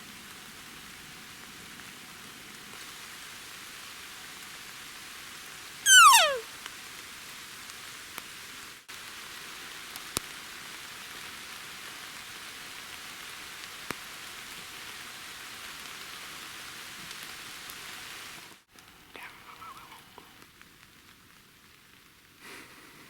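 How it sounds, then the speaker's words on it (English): Steady, soft hiss of rain falling continuously in Alberta elk country, broken by a brief sharp swooping tone partway through, then quieter rainfall near the end. "The rain's coming."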